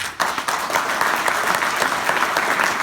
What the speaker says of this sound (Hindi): अब बजा सकते हो ताली